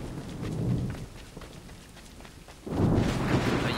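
Thunderstorm in the video game Assassin's Creed III: steady rain hiss with low rumbling swells, a heavier surge of rain and thunder building near the end, no talking.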